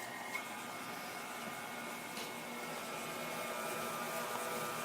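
A stand mixer with a paddle attachment works pasta dough on speed 2, making a faint, steady motor whir that runs unchanged throughout. No one speaks.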